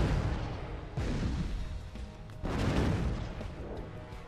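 Tank cannon shots boom in ShellShock Live during an eight-player soccer match, fired over the ball: two loud, broad blasts about a second and a half apart, each decaying into rumbling noise.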